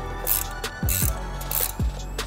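Ratchet wrench clicking as suspension bolts are snugged up on a BMW G20 3 Series, in a few short bursts of close, crisp mechanical clicks and knocks over a low steady hum.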